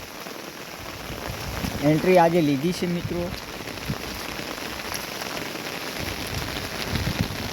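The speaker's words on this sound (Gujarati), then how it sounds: "થોડોક વરસાદ" Steady heavy rain patters on the ground and surfaces throughout, with someone speaking briefly over the downpour.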